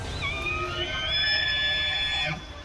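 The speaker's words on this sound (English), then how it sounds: "That is the sound of an elk bugling as he wades through water in western North Carolina." An elk in western North Carolina bugles while wading through water, a high whistling call that rises and slides down over a low watery rumble, heard alone.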